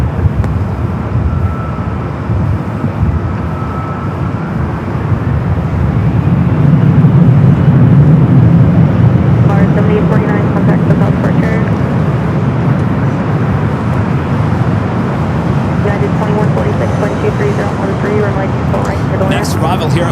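An airliner arriving from Shanghai taxis toward the gates at Los Angeles LAX. Its jet engines give a steady broad roar that swells in the middle of the clip and then holds, heard from a distance while someone talks over it throughout.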